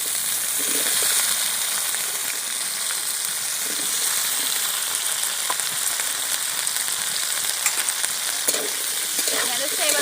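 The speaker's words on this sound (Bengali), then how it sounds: "চিংড়ি ভাজার তেলে এবার আমি ঢ্যাঁড়সটা ভেজে নেব।" Okra fries in oil left over from frying prawns, giving a loud, continuous hiss with scraping stir strokes, heard alone and up close.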